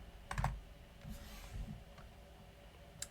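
Keystrokes on a computer keyboard as a command is typed into a Kali Linux terminal: a quick cluster of clicks near the start, a few scattered taps after, and one sharp final key press, close and fairly quiet with no talking.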